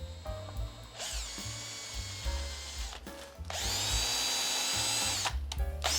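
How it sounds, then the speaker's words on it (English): A power drill whirs in several bursts, spinning up and biting into metal thread inserts with grinding, rubbing noises between runs, cleaning threads on a 1955 Vendo Coca-Cola machine cabinet. "run your drill down through there, get a good thread cleaning."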